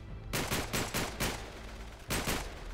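Gunfire in the Uncharted 3 action game: a handful of sharp, close shots, some in quick pairs, then a short pause before a final burst.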